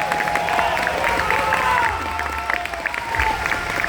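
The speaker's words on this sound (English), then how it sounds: "Give a round of applause for Mrekk." Steady applause and cheering from a crowd at a 1v1 tournament grand final, a dense wash of clapping lasting throughout with some crowd noise mixed in.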